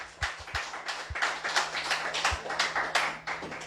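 A church congregation applauding the Lord during a sermon, loose overlapping handclaps from a modest group in a rhythmic, uneven patter, with a few low thumps and a faint steady hum beneath.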